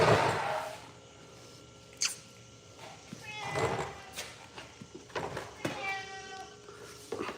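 A cat meows several times in short, scattered calls, fairly close, with quiet rustling and a little background voice between them.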